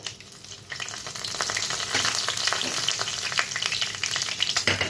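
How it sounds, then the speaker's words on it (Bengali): Whole cumin seeds crackle and sizzle in hot oil beside fried hilsa fish heads, a fairly quiet but steady frying hiss with light stirring scrapes throughout. "তো মাছের মাথাগুলো একটু সাইড করে আমি ফোড়নটা দিয়ে দেব। তো দিয়ে দিই গোটা জিরে"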